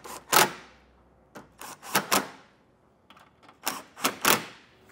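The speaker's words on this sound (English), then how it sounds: "you can take those 7mm head screws, get all those started. We'll snug them down." A tool drives 7mm head screws into a Curt trailer hitch receiver on a 2023 Ford Bronco Sport. Short, sharp whirring bursts come in close clusters, separated by brief pauses of near silence.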